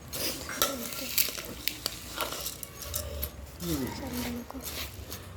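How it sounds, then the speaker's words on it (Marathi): A bowl of bhel, the puffed-rice snack, is stirred and tossed, giving scattered clinks, scrapes and light rustling taps against the bowl with no one talking. "आपण याच्यामध्ये थोडंसं हलवून व्यवस्थित मिक्स करून घ्यायचं आहे"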